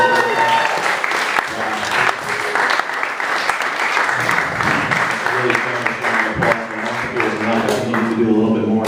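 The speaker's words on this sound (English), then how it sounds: "Can we get a big round of applause for everybody that's gone up so far?" A room full of people applauds for performers at a live open-mic set, steady loud clapping throughout with voices and cheers mixed in.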